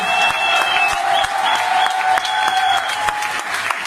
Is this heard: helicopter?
no